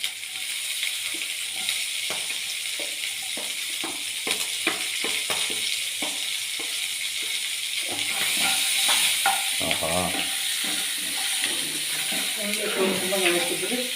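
Onions sizzling as they fry in a pan with masala and prawns, a steady broad hiss with frequent stirring scrapes and clicks, getting louder partway through, under occasional talk.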